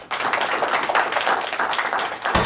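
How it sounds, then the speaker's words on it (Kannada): An audience claps in a steady, dense patter of many hands, loud and close, lasting the whole moment without voices. "ಈ ಎಲ್ಲಾ ಮಾತುಗಳಿಗೆ ಒಂದು ದೊಡ್ಡದಾದ ಚಪ್ಪಾಳೆ ಬರಲಿ"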